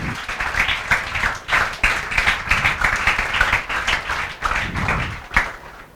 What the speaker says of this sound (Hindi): विवेक साहू के लिए जोरदार तालियां बजाओ